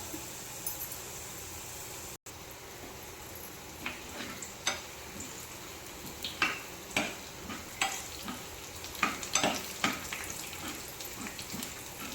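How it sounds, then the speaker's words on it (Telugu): Mustard seeds, cumin and dried red chillies tempering in hot oil with a pinch of asafoetida, giving a steady close sizzle broken by sharp pops and crackles that come quicker toward the end. "పోపు తిరగమాలు వేస్తున్నానండి ఆవాలు జీలకర్ర మిరపెత్తనాలు"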